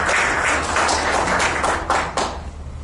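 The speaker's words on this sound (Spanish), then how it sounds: "Un aplauso, por favor." A forum audience applauding a guest being introduced, a dense, close wash of clapping with a few sharper claps standing out, tapering slightly toward the end.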